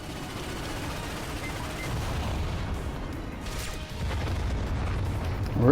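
A sustained, dense rumble of heavy synthetic blasts from a Star Watch ion cannon in Ratchet & Clank (PS4, 2016), steady and loud throughout, swelling slightly near the end like continuous energy-weapon fire.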